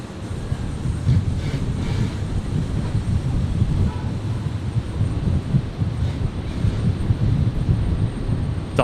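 A Dash 8 turboprop landing at Brisbane airport, a steady loud rumbling engine roar heard from nearby, holding constant throughout without speech.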